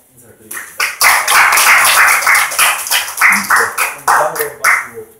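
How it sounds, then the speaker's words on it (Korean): A lecture audience applauds a visiting author after a talk, with dense, sustained clapping that swells for several seconds and then breaks into uneven bursts, while voices are heard speaking over it. "우리 박수로서 인사를 드리겠습니다"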